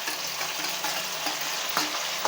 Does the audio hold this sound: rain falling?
no